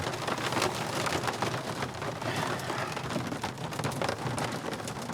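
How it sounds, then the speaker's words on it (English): Heavy rain and hail patter densely and steadily during a desert thunderstorm in Arizona, a continuous close hiss with rapid scattered impacts and no talking. "Can't believe it's hailing out here."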